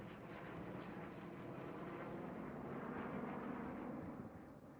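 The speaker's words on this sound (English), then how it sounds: "I never knew Hurtgen Forest has airplanes." Aircraft engines rumble overhead above the Hurtgen Forest map in the World War II shooter Hell Let Loose, a steady low distant drone that swells slightly and then fades near the end.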